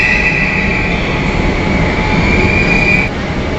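A Kolkata metro train pulls into a station with a loud rumble and a sustained high wheel squeal that cuts off near the end, leaving the low rolling noise.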